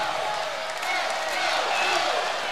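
Crowd applause at a women's college volleyball match after a long rally, a broad steady wash of clapping at moderate distance that holds evenly throughout.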